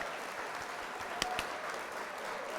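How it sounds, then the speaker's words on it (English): Canned applause from a livestream soundboard button during a LEGO McLaren Senna and custom model building stream, a steady, moderate wash of clapping with a couple of sharper claps and no talking. "I'm hitting the applause button."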